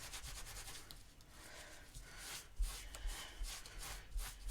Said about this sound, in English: I'm just going to use this microfiber cloth, and you're just going to buff back